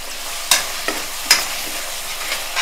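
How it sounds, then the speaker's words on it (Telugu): Onion gravy cooking in a pan, giving a steady close sizzle with a few sharp scraping stirs against the pan and no talk. "ఈ గ్రేవీ కొంచెం మనకి ఉడకడానికి అన్నమాట"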